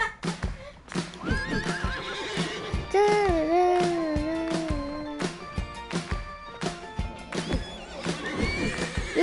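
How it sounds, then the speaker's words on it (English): Horse neighing and whinnying in Minecraft, several loud drawn-out neighs with a steady clip-clop of hooves underneath, close up and mostly alone with a little background chatter. "This horse is the worst horse I've ever had."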